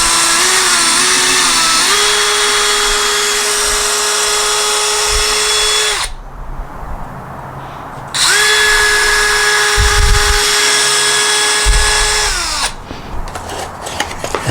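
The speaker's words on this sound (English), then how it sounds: "now we're going to drill it through a little further" A power drill whines steadily while driving screws into a wooden raised bed planter, two long sustained bursts with a pause of handling noise between them, loud and close.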